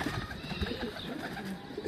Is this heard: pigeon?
yes